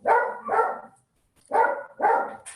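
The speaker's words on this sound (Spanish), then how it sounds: "ayudarme a que no ladre el perrito" A small dog barks four times in two pairs, loud and close, with a short silent gap between the pairs.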